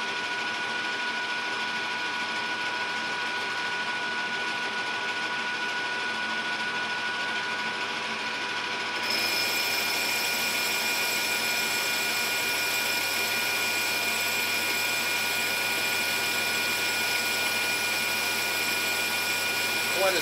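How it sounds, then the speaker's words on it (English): A metal lathe turns at 755 RPM, taking a very shallow cut into a stringy material with a large boring bar, giving a steady, close machining whir with high tonal whine that brightens and grows slightly louder partway through. "Let's give our new boring bar a go. I'm going to run at 755 RPM"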